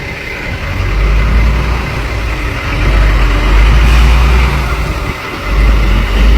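Truck engines idling and revving along a roadside lined with warehouses near the Mexican border, a loud continuous low diesel rumble that swells and dips, no talk.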